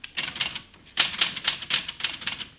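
Rapid keyboard typing in bursts of clattering keystrokes, close and fairly loud, with brief pauses between runs and no talking.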